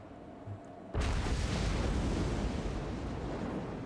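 Artillery opens fire on a Kislev army in the strategy game Total War: Warhammer 3. Quiet ambience cuts to a sudden loud blast, and a dense, continuous rumble of booming fire follows.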